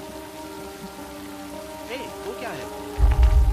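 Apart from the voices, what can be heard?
heavy rain falling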